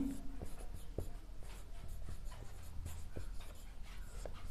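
Chalk or marker tapping and scratching on a board during a physics class, quiet irregular strokes and taps against a faint room hum.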